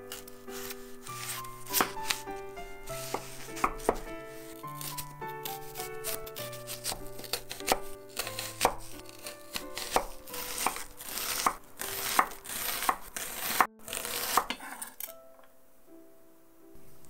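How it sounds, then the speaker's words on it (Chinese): Knife dicing onion into small cubes on a cutting board while cooking a Japanese doria bake, giving a brisk run of close chopping taps over light background music, with no talking, then stopping near the end. "洋葱切小丁"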